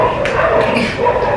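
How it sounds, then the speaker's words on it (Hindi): Dogs barking and yipping at close range in a household setting, a short burst of excited barks and whimpers over a busy background. "वो कुत्ते पीछे पड़ गए"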